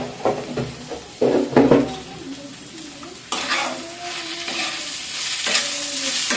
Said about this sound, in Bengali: এবারে নেড়ে চেড়ে ভেজে নিব আমি বেশ কিছুক্ষণ ধরে